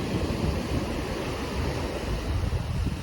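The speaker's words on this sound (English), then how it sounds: "But just a little crazy waves here on Subic Bay." Rough waves churning on Subic Bay in the aftermath of a typhoon, heard as a continuous loud wash of surf mixed with gusting wind buffeting the microphone, with no voices.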